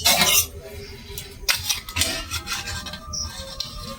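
A plate is handled after steaming banana-leaf-wrapped semolina pitha: close metallic clinks and scraping rubs that come and go over a few seconds, with no talk.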